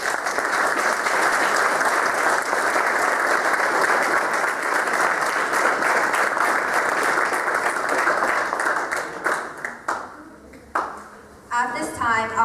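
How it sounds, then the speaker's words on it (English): Audience at a Marine Corps JROTC birthday ball breaks into sustained, loud applause, a dense steady roar of clapping that holds for several seconds before trailing off into scattered claps, with a voice starting at the very end. "Please join me in a round of applause for their generous support."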